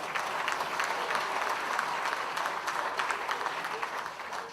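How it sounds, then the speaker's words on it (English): A crowd at a recycling and solid waste company's 25th anniversary celebration claps steadily for a staff member, a dense, sustained round of applause from many hands in a room. "I want to give a round of applause for John Walls"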